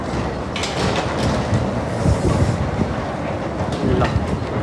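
A train runs on its tracks in a steady loud rumble with faint rhythmic clatter and occasional higher squeals, no voices.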